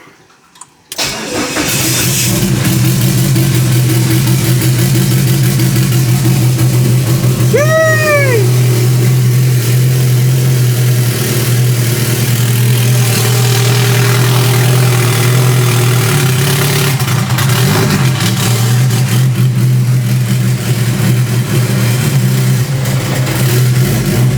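A minivan fitted with an 1800hp fuel pump and a new exhaust starts up, then roars loudly close by. It gives one short rising throttle blip before settling into a steady, rumbling idle.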